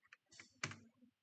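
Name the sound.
typing on a computer keyboard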